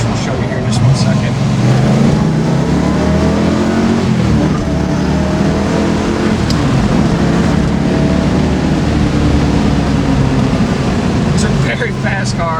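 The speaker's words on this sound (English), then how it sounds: "One of the funnest things about the K-Codes is how they just wind up" A 1965 Ford Mustang K-Code with a 289 V8 engine revs up and winds toward a high red line, its loud, rising engine note sustained throughout with rapid gear-like sweeps, close by.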